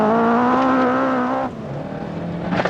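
A 1975 rally car engine holds a steady mid-throttle drone close by during a driving lesson, then the note drops and roughens as the throttle eases off.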